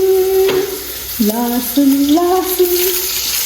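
Close, loud sizzle of garlic frying in oil for a mustard greens dish, with continuous crackling and occasional stirring against the pan, no voices.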